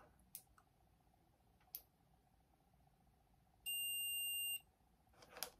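A single electronic continuity beep from a cheap multimeter sounds for about a second amid quiet room tone, with a few faint clicks and handling taps before and after.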